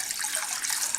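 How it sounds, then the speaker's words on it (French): Water poured from a carafe into a pan, a steady splashing stream, close and continuous for about a second. "je vais verser la carafe"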